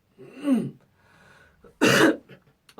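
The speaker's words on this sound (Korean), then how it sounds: "제가 방송 중에 계속 헛기침을 하고" A person clears their throat with a rough, voiced rasp, then gives a sharper, louder cough after a short pause; close and alone.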